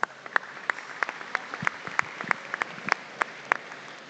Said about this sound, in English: let's show them our appreciation once again with another round of applause.